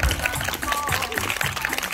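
A crowd at a Christmas cumbia dance contest in El Salvador claps in a loud, dense burst to vote for a dancer, with voices mixed into the applause.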